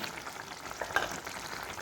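Chicken cooking down in a pan as its liquid evaporates, giving a soft, steady close sizzle with a faint stir or scrape near the middle, no voices.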